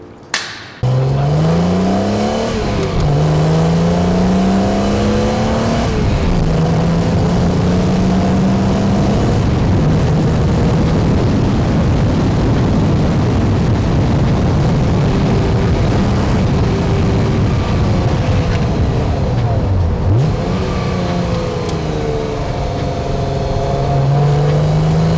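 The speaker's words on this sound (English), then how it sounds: "we're gonna hop in the ZM Coupe and take you guys for a quick drive." A BMW Z3 M Coupe, a 2000 model, drives with its engine running steadily and loud throughout, the pitch rising and falling as it accelerates and shifts gears, recorded up close from inside the car.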